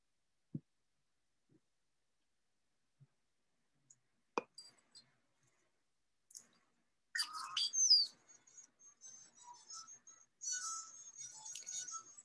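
Sparse clicks and taps in near silence, then a burst of squeaky, whistling European starling chirps and chatter, close and fairly faint.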